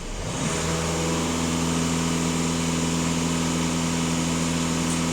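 A VW Passat 2.0 TDI diesel engine with AdBlue runs up as the throttle opens, then holds a steady, loud drone close by with no one talking.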